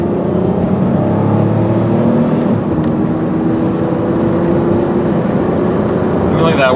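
A 1999 Chevy Malibu LS engine drones steadily from inside the car as it drives along at about 55 mph, with someone talking over the hum.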